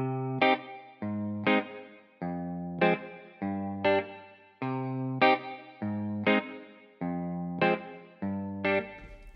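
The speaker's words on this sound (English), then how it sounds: "now the next thing is to add a reverb" Afrobeats-style electric guitar with reverb in FL Studio, playing a repeating plucked chord pattern of short bright strums at a steady rhythm, with a washy tail after each hit and no voices.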